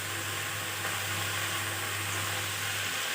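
Onion, ginger and garlic frying in hot oil give a steady, close sizzle while a spatula stirs them through the pan, with potato pieces also in the mix; the crackle runs continuously with no voices.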